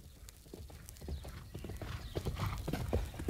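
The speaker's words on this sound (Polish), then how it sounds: "W tej chwili tętent konia rozległ się w pobliżu" A horse's hooves clip-clop rapidly at a gallop, drawing steadily closer and louder, with a brief whinny mixed into the rhythmic thudding.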